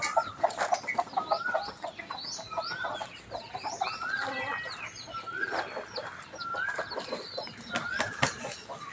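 Chickens cluck repeatedly in short choppy bursts at a temple in Lampang, Thailand, with other fowl calls mixed in and some higher chirps, fairly close and busy throughout.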